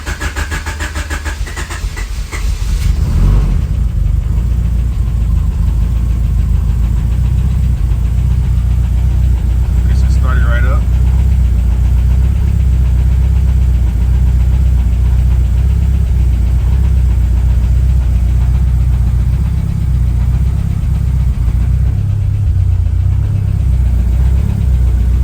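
Turbocharged Honda H22 engine in a CB7 cranking, then catching and running rough, a steady loud idle holding for over twenty seconds with a faint ticking underneath, alone without talk.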